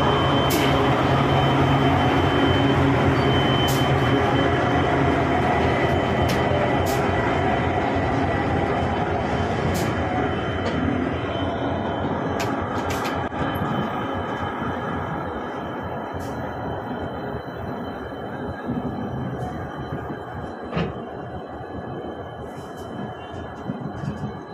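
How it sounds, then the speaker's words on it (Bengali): The 12834 Howrah Ahmedabad Express pulls out of Howrah station, a broad rumbling roar of rolling stock that slowly fades, with scattered clanks and squeaks heard from on board. "12834 up Howrah Ahmedabad express Howrah station ছাড়লো।"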